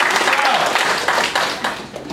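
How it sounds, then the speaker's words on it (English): At a Sunday Assembly gathering, the audience gives itself a brief round of applause, with scattered clapping mixed with voices and cheering that fades toward the end. "Give yourselves a round of applause."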